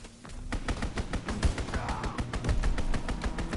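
Strafing-run gunfire in Call of Duty WW2, a rapid, evenly spaced stream of heavy shots rattling continuously for several seconds at steady loudness, with no talk over it.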